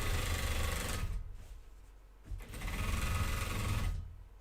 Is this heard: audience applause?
no